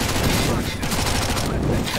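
Rapid gunfire from a Counter-Strike match on Faceit, dense bursts of shots crackling continuously over about two seconds at steady close range, with no talk over the firing.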